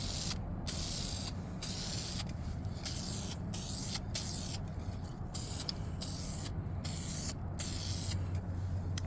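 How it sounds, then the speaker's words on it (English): Spray primer can coating Warhammer terrain in repeated bursts, each a loud hissing blast separated by short gaps, with a faint background hum and occasional mechanical clicks of the nozzle. "You always want to start spraying off of the piece you're spraying, and then let go of the nozzle as you come away from the piece"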